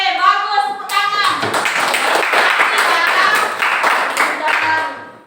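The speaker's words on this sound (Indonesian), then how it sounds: "Oke, bagus, tepuk tangan." A school class claps hands during a lesson, with a dense run of quick, close claps that lasts several seconds after a brief spoken word from the teacher and fades at the end.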